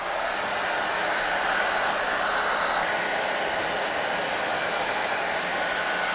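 A hair dryer blows steadily to heat a vinyl decal on motorcycle plastic body panels, a loud continuous broadband whoosh held close for the whole stretch with no talk.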